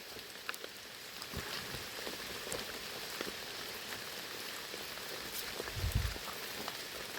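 Large raindrops fall steadily on a dry forest during a mushroom hunt, a constant hiss with scattered sharper drop taps and a brief heavier patter near the end, with no voices.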